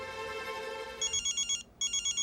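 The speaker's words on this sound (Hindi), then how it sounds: "आया फोन।" A telephone rings in a Hindi TV drama scene: a steady tone gives way to a loud, close, rhythmic electronic ring in repeated short bursts with a brief pause, no talk.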